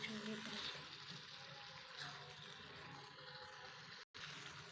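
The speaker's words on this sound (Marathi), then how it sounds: "यामध्ये मी मिक्सरचं जार विसळलेलं पाणी मी यामध्ये टाकत आहे" Rinse water from a mixer jar poured into a cooking pan of masala and fried gobi, a soft steady gush with faint sizzle lasting a few seconds, with a voice speaking over it.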